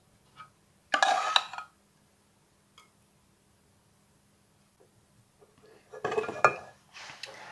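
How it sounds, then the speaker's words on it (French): Butter is basted over cauliflower and the dish goes into an oven preheated to 200 degrees: two short bursts of clinking and scraping of cookware, close and fairly loud, separated by near silence, with no talking. "Je vais arroser mon chou-fleur de la moitié de mon beurre et je vais enfourner 10 minutes."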